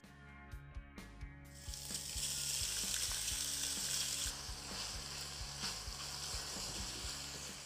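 Ground pork, salted, sizzles and fries in a pan over medium-high heat, the hiss swelling loud and steady after a few soft clanks at the start, with faint spoon scrapes beneath.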